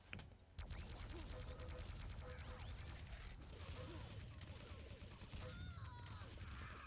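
Rapid plasma gun fire in the arena shooter Quake 3 rattles on almost without a break, mixed with dense explosions, impacts and other weapon noise from a frantic match.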